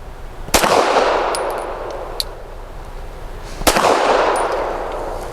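Two sharp Canik SFx Rival S pistol shots ring out about three seconds apart, each a loud crack with a long echoing decay, and faint metallic clinks follow the first.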